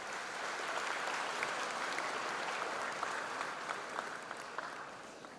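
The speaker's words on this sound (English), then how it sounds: "Loud applause." Audience at a college freshers' induction program applauding, a dense, sustained burst of clapping from a large crowd that holds steady for several seconds before tapering slightly at the end.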